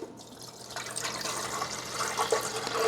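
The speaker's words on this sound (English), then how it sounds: "we're going to add 13 ounces of the pure vinegar into the water reservoir" Pure vinegar, about 13 ounces, poured into the water reservoir of a Cuisinart DGB-2 grind-and-brew coffee maker, a soft steady trickle and splash of liquid running throughout the short stretch, close and fairly quiet.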